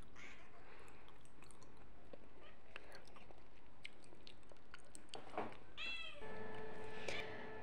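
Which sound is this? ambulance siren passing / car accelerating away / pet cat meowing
pet cat meowing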